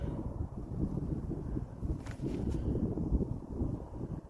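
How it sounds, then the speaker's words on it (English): Low, steady wind buffets the microphone with a constant rumble and faint rustling, no voices present. "It's windy up here."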